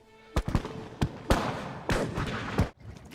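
Several sharp gunshots ring out at uneven intervals, loud and close, each with a short echoing tail.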